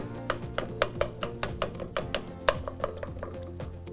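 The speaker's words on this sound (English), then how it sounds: "I'm going to use my mix and chop to get these tomatoes chopped up a little bit" Canned tomatoes are mashed in a pan with a Pampered Chef Mix 'N Chop tool, giving a steady series of quick, faint plastic clicks and thumps close by, repeated at a roughly even rhythm.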